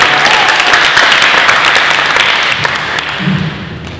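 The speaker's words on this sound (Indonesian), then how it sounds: "Tepuk tangan untuk" A crowd at a talk bursts into loud, dense clapping that fills the room and gradually thins out over a few seconds.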